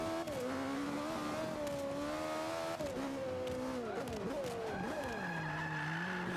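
A car fitted with drift tires slides through corners, a continuous sustained tire squeal with wavering pitch over a loud engine drone, holding steady and near throughout before shifting to a higher, steadier squeal near the end.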